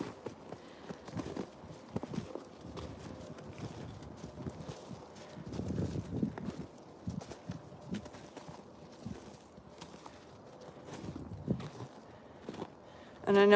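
Horses on a ranch walking with clip-clopping hooves, a steady uneven patter of steps at moderate distance, with wind noise and occasional talk over it.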